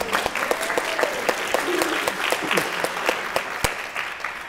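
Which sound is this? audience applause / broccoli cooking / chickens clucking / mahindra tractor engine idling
audience applause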